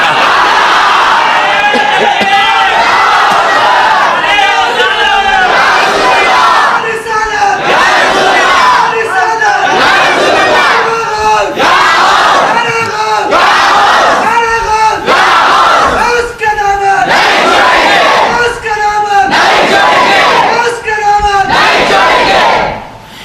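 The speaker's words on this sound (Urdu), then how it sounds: "اسی لیے پکارتے ہیں یہ نعرے" Large gathering of devotees loudly chanting religious slogans in unison, a call-and-response of forceful shouted phrases repeating in a steady rhythm with short pauses between, close and loud throughout.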